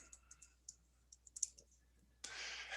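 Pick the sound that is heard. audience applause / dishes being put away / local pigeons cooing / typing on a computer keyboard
typing on a computer keyboard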